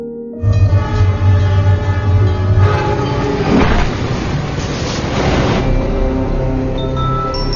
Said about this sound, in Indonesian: Tampak dari kejauhan kereta api melaju dengan cepat